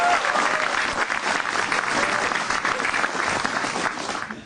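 A stand-up comedy audience at a televised Indonesian show breaks into loud, sustained applause, a thick wash of clapping that carries on steadily for several seconds with little talk.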